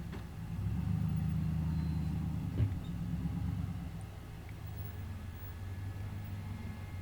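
An off-road rig crawls over rocky obstacles on Moab's Rusty Nail Trail, a low steady engine rumble with a brief louder knock partway through, moderately near and fairly quiet, no talk.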